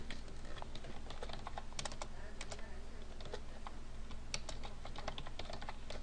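Fast, continuous clicking of keys on a computer keyboard, close and crisp, with irregular bursts of keystrokes over a low steady hum.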